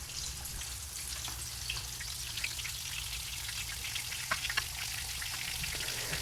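Dredged chicken pieces fry skin side down in a pan, giving a steady close crackle and hiss with scattered sharper pops rising above it, and no talking.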